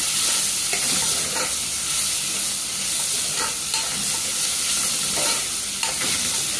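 Soya pulav ingredients fry in a pan with a close, continuous sizzle, broken by periodic scraping taps as the mixture is stirred.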